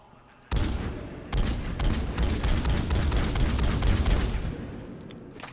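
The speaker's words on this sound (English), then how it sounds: "Okay, so then we have the Striker assault rifle." Sustained rapid automatic fire from the Striker assault rifle in Mass Effect 3, loud close bursts starting abruptly, briefly pausing, then continuing as a steady heavy rattle before trailing off.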